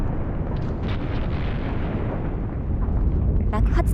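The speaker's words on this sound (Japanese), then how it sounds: "支笏カルデラの南の端から大きなプリニー式噴火が発生します。" A Plinian volcanic eruption of Mount Tarumae at the southern edge of the Shikotsu caldera rumbles as a loud, sustained roar with deep booming surges that swell toward the end.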